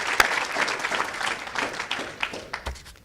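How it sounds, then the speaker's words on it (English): An audience at a high school quiz competition applauds the hosts, with close, fairly loud clapping that thins and fades toward the end. "A round of applause for our hosts."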